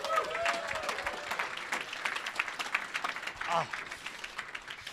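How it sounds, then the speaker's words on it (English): Audience applause rings out at a startup accelerator demo day, with steady clapping from a sizeable crowd and a few voices and cheers mixed in. "give yourselves a round of applause for starting this up today"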